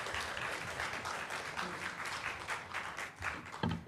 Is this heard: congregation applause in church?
yes